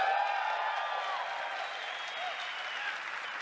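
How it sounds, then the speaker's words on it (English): Audience applause at an Xbox E3 press conference, a dense steady wash of clapping from a large crowd, sustained throughout at a moderate level with no clear talk. "That's where I want to hear the applause."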